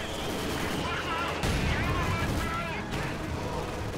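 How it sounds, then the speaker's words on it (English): An incendiary artillery barrage lands in the Company of Heroes 2 battle game, a dense wash of rumbling blasts and crackling impacts that holds at an even level for several seconds, heard under a voice talking over it. "Incendiary barrage going down again."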